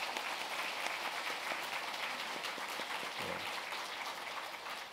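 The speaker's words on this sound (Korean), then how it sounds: "고정호 선교사님 오셨는데 자리에서 일어나 주시면 우리 뜨거운 박수로 맞이하겠습니다." A church congregation gives a warm round of applause to a visiting missionary, a steady, even patter of many hands heard from a distance and fairly quiet throughout.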